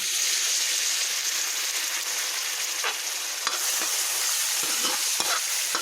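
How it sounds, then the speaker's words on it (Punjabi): Garlic and onion fry in desi ghee with a loud, dense, steady sizzle throughout, and brief stirring scrapes poke through the hiss near the end, with nobody speaking. "ਇਹ ਲਸਣ ਤੇ ਪਿਆਜ਼ ਭੁੰਨ ਲੈਂਦੇ"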